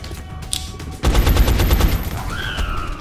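A sudden, loud burst of rapid gunfire erupts in the turn-based strategy game XCOM: Enemy Unknown, with the rattling shots running for about two seconds.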